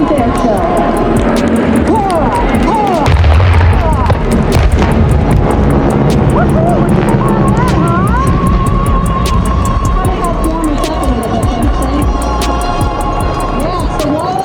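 A pyrotechnic Wall of Fire explodes at an air show, set off by a bomb squad team, a loud continuous roar with booming bursts and crowd noise, while an announcer talks throughout.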